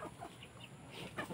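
Young chicks clucking and cheeping softly at close range, a faint cluster of brief calls over low background noise.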